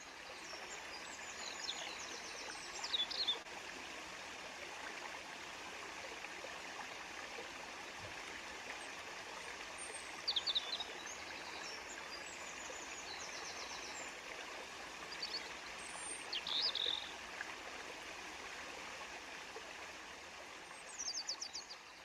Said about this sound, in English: The waterfall was lovely.